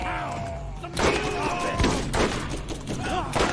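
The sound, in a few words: shotgun firing in a video game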